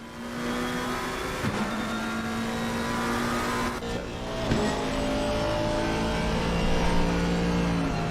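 Aston Martin and McLaren race cars in a racing video game at Imola at night: steady loud engine drone with shifting revs, gear changes and acceleration surges, no talk.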